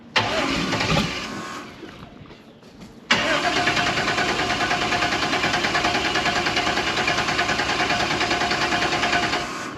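A twin-turbo 6.0 engine in a 1965 GMC runs loudly, dips and stumbles briefly, then settles into a steady, even idle with a fast rhythmic pulse, close and alone without talk.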